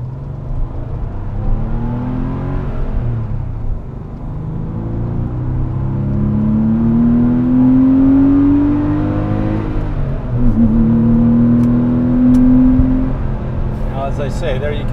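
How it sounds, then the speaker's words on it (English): A 1997 Porsche 993 with an air-cooled engine revs hard toward its 7,000 rpm redline, climbing in long rising sweeps through several gears with brief dips at each shift, loud and close with a person talking over it. "there you can really hear the engine go"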